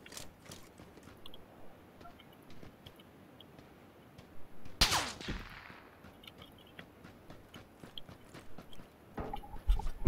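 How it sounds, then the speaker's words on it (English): A single loud sniper gunshot in PlayerUnknown's Battlegrounds cracks out mid-clip with a short tail, followed near the end by a second sharp report, over quiet in-game ambience with no talking. "I'm getting sniped by somebody."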